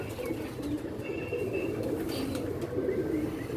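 Pigeon cooing outdoors in strong wind, a low continuous burbling coo close by, steady and moderately loud against a rough windy background.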